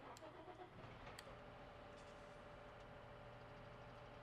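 An early-to-mid-1990s farm tractor engine at Thornton Farm cranks briefly and starts, then settles into a steady low rumbling idle, heard close but at low level; no talk.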